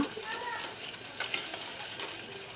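Masala spices frying and sizzling in a pan for village-style urad dal, a steady broadband crackle with light stirring scrapes throughout, close and moderately loud.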